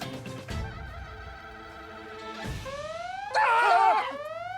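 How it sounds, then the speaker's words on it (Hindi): An electronic phone alarm plays a rising, warbling melody in repeated tones, loud and close, after some clattering. "ये हमारा फोन का अलार्म बजा।"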